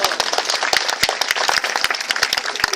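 A church congregation applauds during a worship service, with dense clapping from many hands, sharp individual claps standing out over a steady wash.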